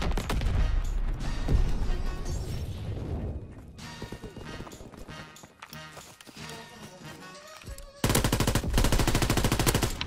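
Rapid automatic gunfire rattles in Call of Duty WWII, loud dense bursts with shots and game effects, easing to quieter scattered firing and then a sudden loud sustained burst near the end.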